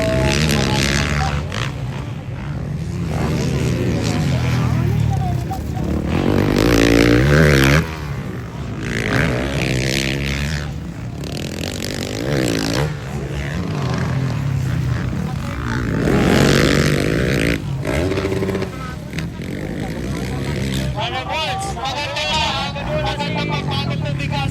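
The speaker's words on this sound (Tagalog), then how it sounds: "Maririnig ko sa mga motor nila kung sino ay pumipiga." Motocross motorcycles in a Pro 1 heat at a Passi City competition, engines revving and roaring continuously for the whole stretch, with throttle rising and falling as riders squeeze on the gas, loud and close, mixed with crowd noise.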